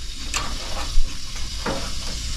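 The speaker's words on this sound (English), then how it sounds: "we're gonna let this simmer on low until we're ready to serve dinner" Big oversized Italian meatballs simmering on low in a pot of sauce, a soft steady sizzling hiss with faint bubbling pops, close by and without talk.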